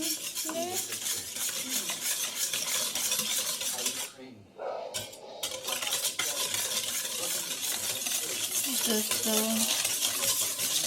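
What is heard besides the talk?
mixing eggs and sugar in a bowl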